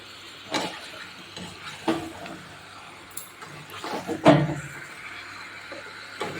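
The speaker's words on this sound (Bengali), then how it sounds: "এবার চিকেনটা এবার মশলার সাথে ভালো করে এবার কষিয়ে তো গ্যাসের ফ্লেমটা আমি হাই করে দিয়েছি" Chicken cooked with spices in a pan over a high gas flame gives a low, soft sizzle, with a few scattered stirring scrapes and clunks, the loudest near the end.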